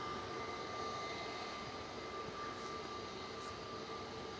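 An easyJet Airbus A320neo jet takes off from Manchester Airport, heard as a steady, broadband engine roar with a faint whine that stays level throughout.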